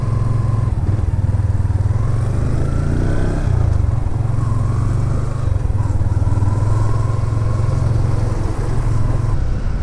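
Motorcycle engine droning steadily while riding, a loud, close, continuous low hum with slight rises and dips in pitch as the throttle shifts, running alone without talk.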